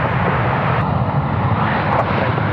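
An airliner takes off from runway 34 left at Sydney Airport, its engines a loud, steady broadband roar that holds close and unbroken throughout.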